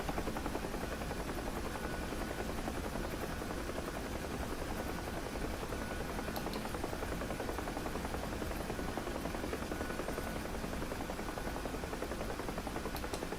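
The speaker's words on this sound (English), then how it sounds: "I'm flying way too fast, that's why my helicopter's shaking" A helicopter in the DCS flight simulator over rural eastern Afghanistan, shaking from flying too fast, drones steadily with a dense, loud rotor and engine roar that fills the whole span with a slight buzzing texture.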